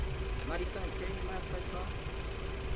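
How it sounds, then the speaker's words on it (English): Honda Civic Type-R EK9 engine idling through a pretty quiet exhaust, a steady low rumble that runs throughout beneath someone talking nearby. "Hey, she purrs though. I mean, engine sounds good"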